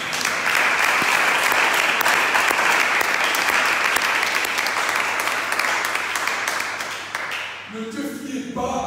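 A church congregation applauds loudly and steadily for several seconds, the clapping fading out near the end as a voice begins to speak.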